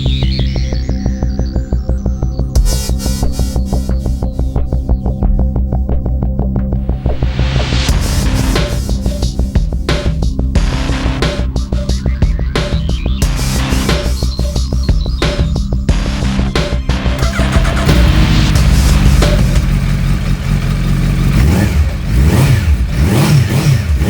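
A 2016 Suzuki GSX1300R Hayabusa motorcycle engine runs loud and close, idling and then revving repeatedly in sharp bursts, with the pitch climbing and falling over a steady mechanical drone.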